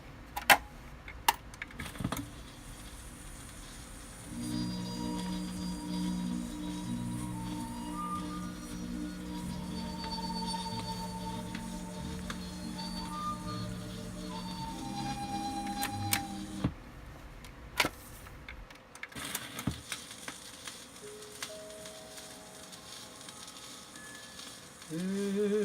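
A record changer (autochanger) starts up and runs, giving a steady low mechanical hum with a faint ticking for most of the stretch, then it stops and a few light clicks and handling noises follow.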